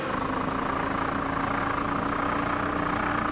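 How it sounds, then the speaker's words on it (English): A McLaren 720S GT3 race car's engine in iRacing drones in a steady, unbroken mid-pitched hum with a slightly rough, uneven edge, continuous and fairly loud throughout. "it doesn't sound right, the engine, does it?"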